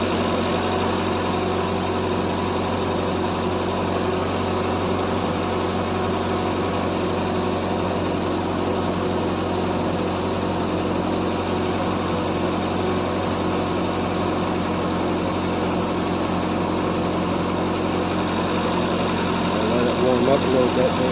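A 1975 Triumph Spitfire 1500 engine idles on the high side, a steady, fast, close-up mechanical hum with a light ticking rattle, with a voice talking over it briefly.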